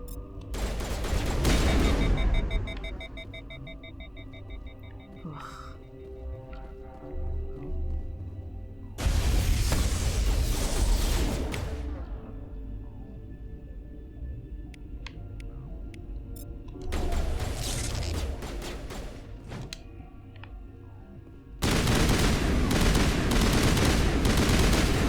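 Mass Effect Legendary Edition combat on Noveria: repeated loud bursts of automatic gunfire and heavy explosions in several long volleys, separated by quieter stretches of lingering rumble and game tones.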